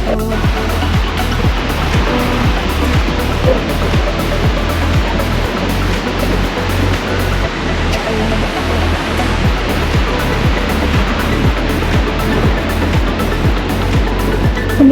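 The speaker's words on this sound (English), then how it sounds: "the beach is literally right here" Ocean waves break on a beach in Tenerife, a loud, steady roar of surf with rhythmic washes close by, continuous for the whole stretch with no voices.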